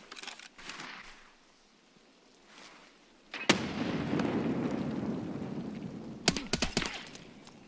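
A grenade explosion in the shooter game Escape From Tarkov, a sudden loud blast followed by a long rumbling roar and a few sharp cracking pops near the end.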